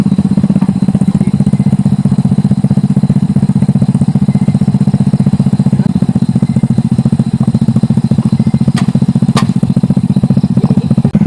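A small engine runs after being started on the third try, a loud, steady rapid putter close by with a couple of brief sharp clicks near the end.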